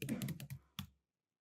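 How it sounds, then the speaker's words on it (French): Keys on a Mac extended keyboard pressed close by, a quick burst of several clicky taps followed by one more press, then silence. "J'ai enfoncé sur le Mac la touche commande, Shift en même temps."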